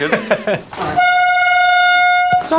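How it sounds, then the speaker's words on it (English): A single loud, sustained air horn blast holds a steady blaring tone for about a second and a half, preceded by brief chatter and a clatter, then cut off abruptly. "it'd be very nice to greet them with an air horn"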